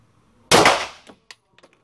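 A single loud, close gunshot bursts out sharply, then decays with a short echo, followed by a few faint metallic clicks and knocks.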